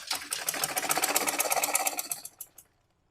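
A sewing machine stitches a gown toward the shoulder seam in one steady, close run, its rapid needle clatter going for about two and a half seconds before slowing and stopping, with no talk.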